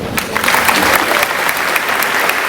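A congregation at a Sunday 11:30 AM church service bursts into loud, steady applause, a dense crackle of many hands clapping at once, with no voice on top.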